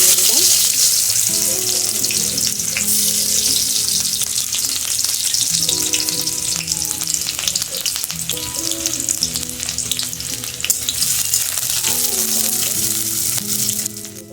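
Chopped onion with black cumin seeds frying in a pan, a steady loud sizzle running throughout, with occasional stirring scrapes and faint background hum.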